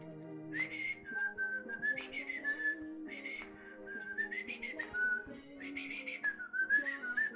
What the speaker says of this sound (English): I just realized I'm literally whistling